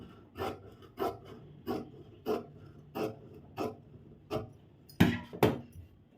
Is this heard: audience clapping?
no